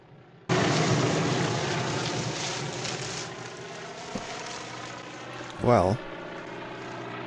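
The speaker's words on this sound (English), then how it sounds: "the plane's gonna run out of fuel" A propeller airplane from the 1959 film North by Northwest drones steadily and loud after a sudden start, its engine roar filling the scene with no music, while a voice speaks briefly over it near the end.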